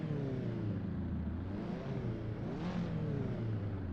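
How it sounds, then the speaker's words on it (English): Caterham race car engines idle and rev together on the Brands Hatch starting grid in Assetto Corsa, a steady loud multi-engine drone with rising and falling revs, no voices. "As the engines roar to life, Hippie prepares to take off from the seventh position on the starting grid"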